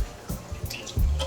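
Half and half, a cream-and-milk mix, poured from its carton into a cooking pot on a home stove, with soft splashing and dribbling that swells louder near the end of the short pour, close up with no talk.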